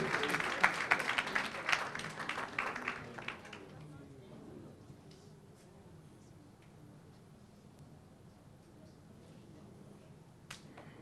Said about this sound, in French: Alors, pour Mamadou Moustapha Ndiaye, veuillez l'applaudir s'il vous plaît.